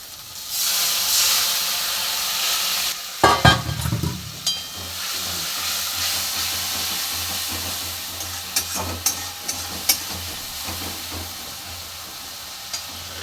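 Spices frying in oil in a pan for a small-fish curry hiss steadily, then a splash of water sets off a sudden loud burst of sizzling and steam, followed by continued frying with occasional stirring scrapes, close up.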